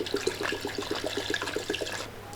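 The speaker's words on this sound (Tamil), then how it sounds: "தேவையான தண்ணி ஊற்றிக்கலாம்." Water is poured into a cooking pot holding washed, finely chopped cluster beans, making a steady splashing pour with a rapid bubbling pulse that lasts about two seconds and then stops.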